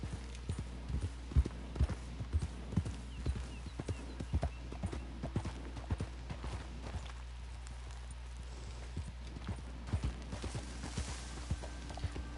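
Horse hooves clip-clop at a steady walking pace in the video game Red Dead Redemption 2, with clear, evenly spaced clops over a low ambient background.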